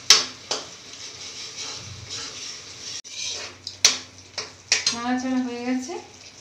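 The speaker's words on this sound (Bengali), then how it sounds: "এটাকে খানিকক্ষণ নাড়াচাড়া করতে হবে ভালো করে, যাতে টমেটোর যে কাঁচা গন্ধটা আছে এটা চলে যায়।" Tomatoes are stirred in a sizzling pan while Kashmiri paneer is cooked, with scraping knocks of the spoon against the pan and a soft fry underneath, under a voice talking.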